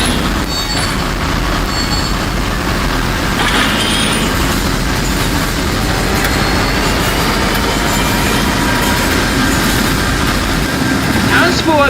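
A pair of P-40DC diesel locomotives runs in the train simulator game Rolling Line, producing a loud, constant engine rumble and rail drone that holds steady with no break.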